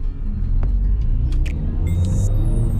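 A 2016 Toyota Etios Liva engine accelerating hard toward 3,500–4,000 RPM, a loud, sustained rumbling drone heard from inside the car with no talk.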